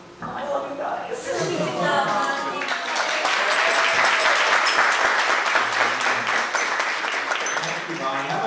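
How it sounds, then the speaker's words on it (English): Guests at a wedding at Arrow Park in Monroe, NY clap and cheer in a sustained, dense round of applause that builds and holds, with voices mixed in. "How about a nice round of applause again for Bonnie?"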